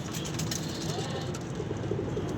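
A domestic pigeon kept by a pigeon fancier coos softly in low, rolling notes over a noisy background, with faint voices nearby.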